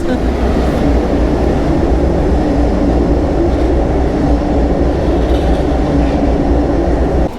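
An electric multiple unit train rumbles steadily into a platform at Bydgoszcz Główna, a loud continuous roar of wheels and motors with faint rhythmic clatter throughout.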